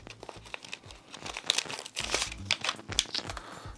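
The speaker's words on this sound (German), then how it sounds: "Geliefert natürlich in einer antistatischen Tüte, wie sich das gehört, antistatische Verpackung." An antistatic plastic bag holding small electronic modules crinkles and rustles as it is handled close up, in irregular bursts of crisp crackling and short pauses.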